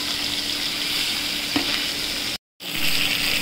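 Pieces of katla fish frying lightly in hot oil make a loud, steady, close sizzle with a brief tap partway through and a short dropout near the end.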